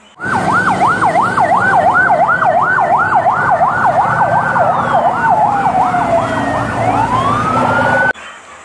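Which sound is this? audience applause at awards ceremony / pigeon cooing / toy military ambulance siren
toy military ambulance siren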